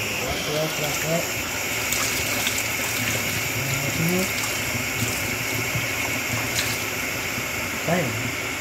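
Water runs steadily from a tap into a sink while dishes are rinsed, a constant splashing hiss with a few faint clinks and a voice now and then.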